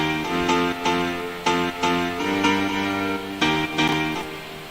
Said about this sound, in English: And then we've just got this lower Nexus grand piano,